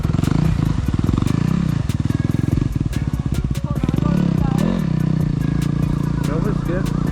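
A dirt bike engine revs hard and steadily while ploughing through a deep mud hole, loud and close throughout, with brief clattering and people talking over it.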